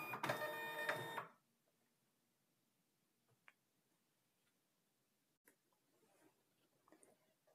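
A Zebra label printer prints a label in one loud, close mechanical burst lasting about a second, followed by near silence with a few faint clicks.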